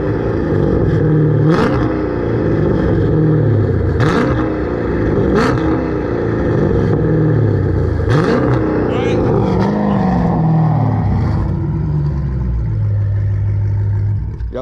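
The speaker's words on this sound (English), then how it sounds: "we'll give y'all a couple of revs, and that could really show you like exactly kind of what is the difference in these exhausts" A Dodge Charger fitted with an aftermarket catback exhaust, MBRP or Corsa, revs repeatedly to a fixed limit, each sharp blip rising and falling over a steady loud idle rumble, with people talking nearby.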